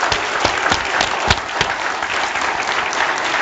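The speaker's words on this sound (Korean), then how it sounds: "제가 하나님의 영광의 박수를 크게 한번 올렸으면 좋겠어요." Church congregation claps loudly and continuously in a Korean worship service, a dense wash of hands with a few sharper individual claps standing out, no voices.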